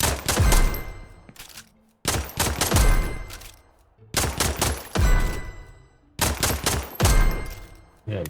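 Automatic gunfire in the video game Nuclear Epoch rattles out in four loud, separate bursts, each a rapid string of shots that decays into a brief reverberant tail before the next volley begins.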